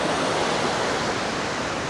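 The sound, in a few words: ocean waves on Da Nang beach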